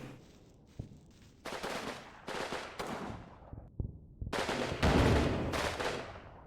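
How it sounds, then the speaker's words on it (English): Mortar and gunfire rumble through a World War II battle in the PC game Combat Mission Normandy, heard as repeated heavy bursts and sharp impacts, some booming loud, others distant, with no talking over them. "They got a mortar. I don't know where that mortar's going, though."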